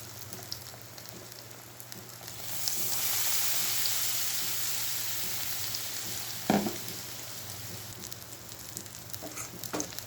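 Pakoras in thin gram-flour batter dropped into hot oil give a steady, close frying sizzle that swells a few seconds in, with a sharper crackle burst midway and light clinks of stirring near the end.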